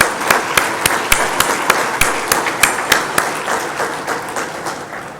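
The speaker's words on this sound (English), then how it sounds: "So let's applaud the panel once again for the fine gathering." A conference audience applauds a panel at a technology debate session, a loud, fairly sparse clapping with distinct rhythmic claps standing out over a continuous patter, fading slightly toward the end.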